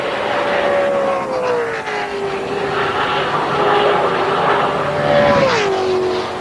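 Dale Earnhardt's race car at Daytona during 2001 Daytona 500 qualifying, a loud sustained engine drone whose pitch slides down and then climbs again as it passes, steady and close throughout.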